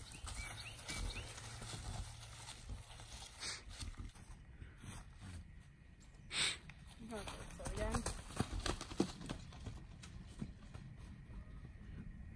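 Hooves clip-clopping on the ground, irregular thuds that come and go, with a voice speaking over them at moments.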